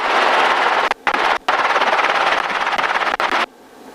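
Helicopter rotor and turbine noise during takeoff, a loud, steady broadband roar with a rapid chopping pulse, broken by a few brief gaps, then dropping away near the end.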